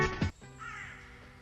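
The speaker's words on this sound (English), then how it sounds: "here's a notable one, bird chatter." A crow caws loudly once or twice up close, followed by a fainter, drawn-out call against a steady outdoor background.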